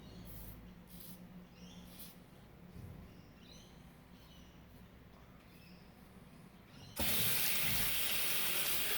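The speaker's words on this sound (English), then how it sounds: "Just wash off my face." Running tap water in a sink as a face is rinsed after a double-edge safety razor shave, with soft splashing at first, then the faucet gushing loud and steady near the end.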